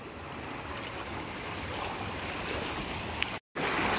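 A boat moves across the water off Goa, giving a steady broad wash of water and wind noise that carries on evenly, broken by one brief dropout near the end.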